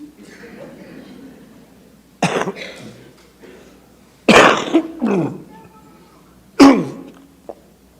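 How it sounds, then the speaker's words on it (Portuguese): Several harsh coughs from a person with Covid come in separate bursts, close and loud, with quiet breathing and throat noises between them. "Um momentinho que minha tosse do Covid."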